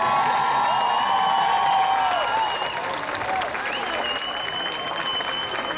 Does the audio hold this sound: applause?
yes